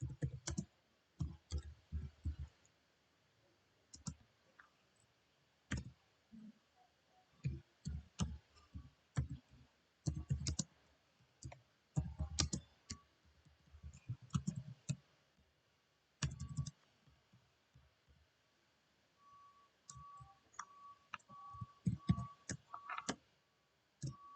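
A computer keyboard is typed on at close range in quiet, irregular bursts of light clicks separated by short pauses, while a banner command is entered during network configuration in Packet Tracer.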